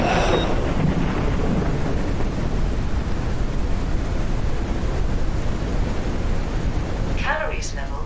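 A thunderstorm rumbles continuously in the survival game Forever Skies, with a loud deep roll of thunder and heavy rain-like noise, and a faint brief tonal sound near the end.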